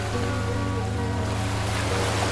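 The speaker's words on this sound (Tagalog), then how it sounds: "lalo na't naririnig mo ang alon" Steady ocean surf washes onto the seashore at Sitio Aplaya, Batangas City, a continuous loud roar of waves with wind noise and no voices.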